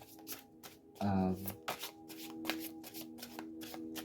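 A deck of cards is shuffled for a rune reading, soft close riffling and rustling bursts under a voice that speaks briefly near the start.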